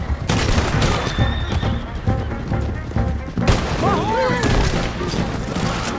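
Gunfire mixed with neighing horses in the video game Red Dead Redemption 2, with rapid shots and a loud whinny in the second half over a busy battle background with shouting.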